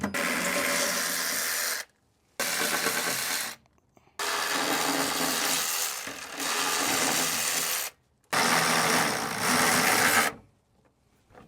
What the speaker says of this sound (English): go ahead and grab a 12mm socket and you can remove these bolts